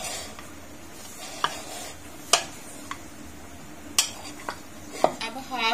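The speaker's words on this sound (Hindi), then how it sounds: "अब मिक्स कर लेंगे।" Food is mixed in a bowl while cooking aloo pulao, with scattered sharp clinks of a utensil against the dish over quiet background noise.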